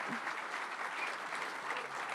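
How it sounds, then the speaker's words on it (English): Audience applause at a talk on growth and engagement, a steady, dense wash of clapping filling the room and holding even for about two seconds with no voices over it. "I hope you give her a round of applause that is deserving of such a title"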